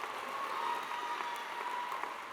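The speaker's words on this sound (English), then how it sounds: "just give me a bit of a round of applause for encouragement" Faint, steady applause from a graduation ceremony audience, a dense wash of many hands clapping at a distance with no talk over it.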